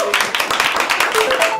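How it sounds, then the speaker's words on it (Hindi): An audience claps for a guest named Manmeet at a live comedy show, with dense, continuous applause holding at an even level throughout. "प्लीज एक बारी मनमीत के लिए तालियां बजाइए।"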